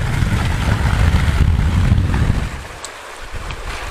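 Steady wind rushes and buffets against the microphone during shore fishing, a low roar that eases briefly toward the end, with no voices.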